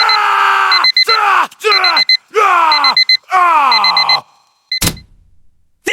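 An alarm clock rings in repeated bursts of a chirping, falling tone with beeps layered over it, loud and close, then cuts off abruptly before a sharp hit.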